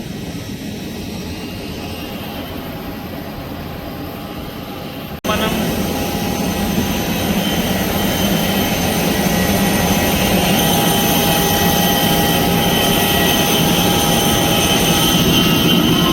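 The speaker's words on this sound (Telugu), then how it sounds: "ల్యాండ్ అయితే అయింది చెన్నై ఎయిర్పోర్ట్ అన్నమాట." An IndiGo domestic jet airliner lands at Chennai airport, its engines making a steady loud roar inside the cabin that jumps in level partway through and then holds, with a continuous broadband rush throughout.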